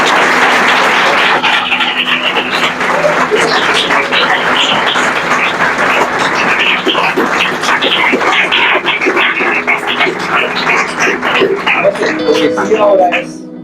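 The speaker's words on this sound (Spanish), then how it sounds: "Vamos a dar un aplauso a José." Audience applause at a televised community event with the mayor of Duitama, dense clapping that carries on for several seconds with voices and talk mixed in, then fades out at the end.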